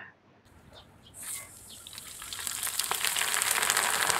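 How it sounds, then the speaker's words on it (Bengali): Rice grains crackle and pop into puffed rice in a hot pan on a gas stove without sand, the rapid popping swelling from quiet to a dense, continuous rattle. "মুড়ি ভাজার সময় আমার এত বেশি আনন্দ লাগে যে মনে হয় ভাজতেই থাকি, এত সুন্দর সাউন্ড"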